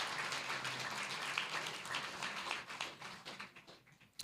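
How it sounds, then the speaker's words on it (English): An audience gives a round of applause for members of a nautical council at an evening history lecture, scattered clapping at low level that tapers off in the final moments. "So a round of applause for them and the Nautical Council."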